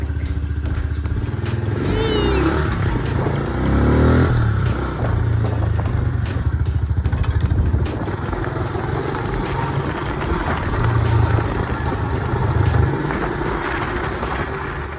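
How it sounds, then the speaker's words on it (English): A pit bike motorcycle riding along, its small engine buzzing continuously and loudly up close, with the revs rising and falling over about fifteen seconds. "Josh, I'm borrowing your pit bike."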